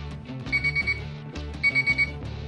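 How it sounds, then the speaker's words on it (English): Timer alarm going off during a beer brew day to signal starting the immersion chiller: two loud bursts of rapid electronic beeps, four beeps each, over a low background hum. "Okay, so that's the alarm now for immersion chiller."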